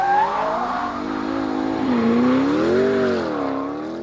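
A hypercar revving on the Portimao race track, apparently a LaFerrari, Porsche 918 or McLaren P1: a sustained loud engine note rising and falling in pitch as it accelerates past, heard alone without talking.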